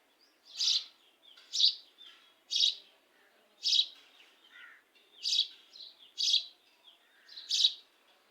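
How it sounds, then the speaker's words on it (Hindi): A pair of Asian koels, male and female, calling from a tree: a series of about eight clear, evenly spaced calls, each a short rising note, repeated at a steady rhythm against a quiet background. "दरख्त के ऊपर दोस्तों एक जोड़ा कोयल का बैठा है, नर मादा कोयल। अभी बोलेगी"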